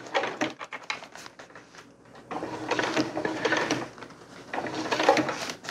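A sewing machine stitches webbing and grosgrain reinforcement onto a lightweight DIY tarp in close bursts of rapid mechanical clatter, separated by short pauses as the fabric is repositioned.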